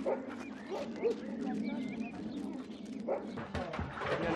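Dogs at a kennel bark and yip in short scattered bursts, some close and some farther off, over a steady background murmur with a faint bird note.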